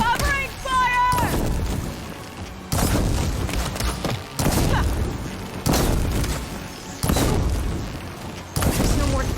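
Guns fire repeatedly in an online shooter game, with heavy bursts and booming shots coming in regular waves about every second or two, loud and close, under occasional shouted talk.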